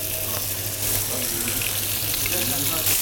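Veal sizzles in a hot pan as it is added for a Turkish güveç, a close, steady crackling hiss with small pops throughout.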